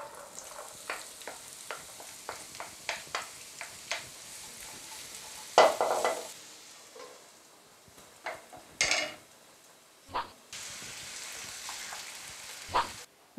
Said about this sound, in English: Fry the onions in olive oil until they're soft,